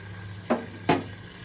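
Masala spices frying in a pan give two short bursts of sizzling stir, each a quick scrape of the spoon over a low steady background hum, fairly quiet and close.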